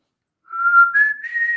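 A single whistled tune, a person imitating someone whistling outside a window by a back trail, starting after a brief silence and holding a few sustained, gliding notes close and clear.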